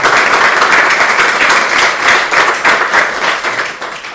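An audience at a centenary celebration for a poet applauds warmly, with dense, sustained clapping throughout that thins slightly toward the end.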